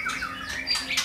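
White-rumped shama, a young forest-caught bird kept in captivity and in good condition, calling with bright, close squawks and whistled notes that rise and fall over about a second, with no talk.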